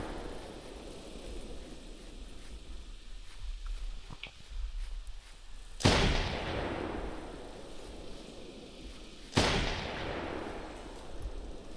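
Two sharp, loud gunshots in the video game The Hunter Primal about three seconds apart, each with a long rumbling decay, over a low steady background hum.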